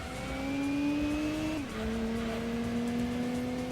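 A Nissan race car in Gran Turismo 2 holds a steady, buzzing engine drone alone, dipping briefly as the driver shifts gears before climbing again.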